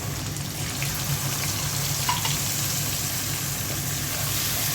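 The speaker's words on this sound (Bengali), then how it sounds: "এখন পানি দিয়ে দিচ্ছি" Water added to a pan of frying cumin, salt, turmeric and dried chili powder, giving a continuous hissing, bubbling sizzle with a low hum beneath, steady and close, no speech.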